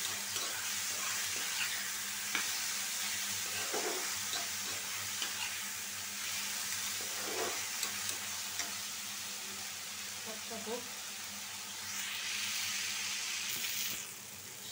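Leafy greens (saak) fry in a pan over a low gas flame, with a steady soft sizzle and occasional stirring scrapes and clinks, faint and continuous throughout.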